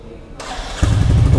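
A 2023 Royal Enfield Classic 350 motorcycle engine cranks briefly and then catches, settling into a loud, steady low rumble up close.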